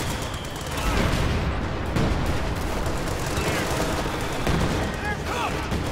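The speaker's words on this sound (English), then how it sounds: "this pack howitzer is about to fire" A pack howitzer fires amid video game battle noise, with several heavy booming shots landing over a continuous loud din of combat.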